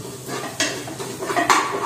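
Onions sautéed and stirred in a pan, quick metal spatula scrapes and clanks over a low sizzle, two sharper strokes standing out, close by with no voices.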